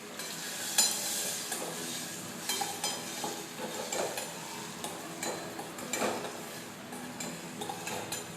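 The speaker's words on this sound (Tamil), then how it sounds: "பூண்டு, மிளகு, கருவேப்பிலை இதை சேர்த்துட்டு அதுக்கப்புறம் வெங்காயத்தை சேர்த்து நல்லா வதக்கி விட்டுக்கலாம்." Garlic, pepper, curry leaves and onion sautéed in a pan for drumstick flower soup, a continuous soft sizzle broken by frequent spoon scrapes and small clinks against the pan, with no talking.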